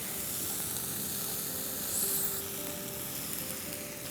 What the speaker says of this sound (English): We're going to add some boiled macaroni to this.